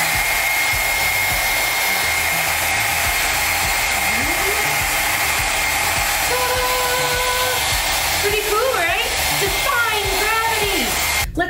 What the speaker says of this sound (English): we're going to turn on the hair dryer, have our column of fast moving air going up